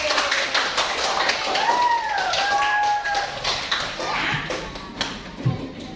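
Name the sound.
pupils clapping for the teacher in class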